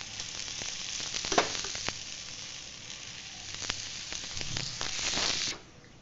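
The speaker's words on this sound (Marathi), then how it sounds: "मस्त अशाच प्रकारे मी सर्व थालीपीठ भाजून घेणार आहे" Thalipeeth flatbread roasting in oil on a pan. A close, crackling sizzle with scattered pops swells and fades, then drops away to near quiet at the end.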